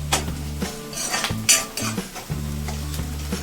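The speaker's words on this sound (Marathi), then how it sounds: "आता कांदा आपला तेलात छान तळून निघत आहे आणि कांदा लालच होत आहे, सोनेरी कलरचा" Chopped onion frying in hot oil in a pan for Maharashtrian-style chole, with a steady close sizzle and a utensil stirring and scraping against the pan in irregular strokes.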